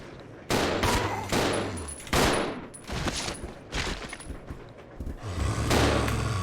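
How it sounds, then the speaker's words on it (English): Handgun fire in Resident Evil 0 on hard difficulty: a run of sharp, loud shots in bursts with short gaps, some followed by low booming tails and metallic mechanism clicks. "Equip the handgun. Fire at will."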